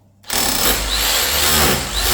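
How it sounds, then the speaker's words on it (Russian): A rotary hammer drill in hammer mode, its mixing paddle pressed against the bottom of a bucket to knock off dried mix, starts abruptly and runs loud and steady, close by, with no talk. "Вы ставите режим перфоратора."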